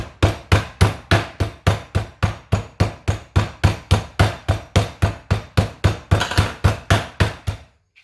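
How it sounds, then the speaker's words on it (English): Rapid, steady thuds of a rolling pin pounding steak, about three blows per second, loud and close, stopping abruptly at the end. "we'll find the old bludgeoning tool, rolling pin or something else, hammer"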